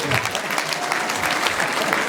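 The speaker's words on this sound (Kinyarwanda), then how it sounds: "Nakomye amashyi k'umuhungu." Crowd applause for the groom at a wedding, a dense, even clatter of many hands throughout, with voices mixed in.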